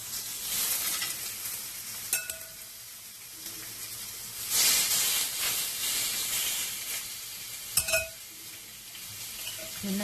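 Food sizzling and frying in a home kitchen pan with a steady hiss, occasional stirring scrapes and a couple of sharp clinks of utensils against the pan, with no talking.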